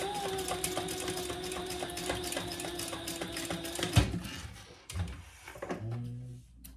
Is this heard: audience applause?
no